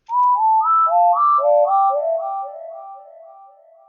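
Pure, sine-like synth notes play a short stepping melody, each note echoing back through delay and a soft reverb tail that fades away.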